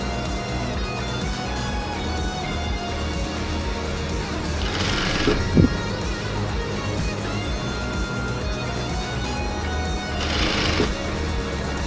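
Sewing machine stitching a seam of pleats on fabric, a steady fast mechanical whirr running continuously with a couple of brief louder surges, alone without talk.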